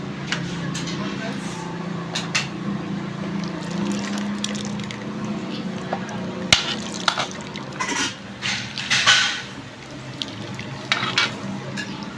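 Cooked pork caldereta is poured and stirred into a serving dish, with soft wet scraping and a few clinks of a utensil against the pot, close by under a steady kitchen background.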